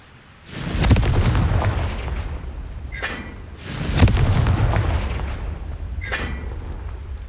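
Two heavy booms from a Confringo explosion spell in a wizard video game land about three seconds apart, each rumbling loud and close, with bright chiming sparkles rising near the end of each blast.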